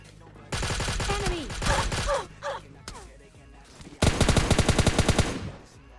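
Automatic fire from an MK gun in a mobile battle royale shooter, played as a solo-versus-squad match: two dense, loud bursts of rapid shots, the second sharper and more evenly spaced, separated by a short gap.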